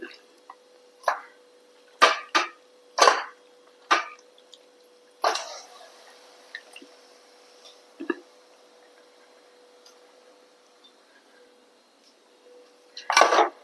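Chicken pieces tossed into a pan and stirred with masala, several sharp metallic scrapes and knocks of a spoon against the pot spaced out over quiet gaps, with a final cluster of clatters.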